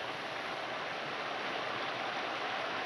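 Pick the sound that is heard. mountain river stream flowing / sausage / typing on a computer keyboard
mountain river stream flowing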